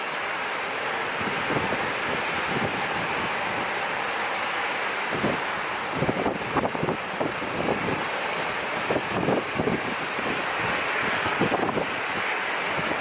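Boeing 737 taking off at San Diego International Airport, a steady roar of jet engines heard from a distance through wind noise on the microphone.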